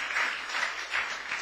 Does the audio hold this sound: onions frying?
no